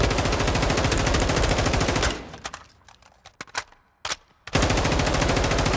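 An M4 rifle in a Call of Duty Modern Warfare 2 firing range, loud rapid automatic fire for about two seconds, then a pause broken by a few scattered shots and clicks before another sustained burst.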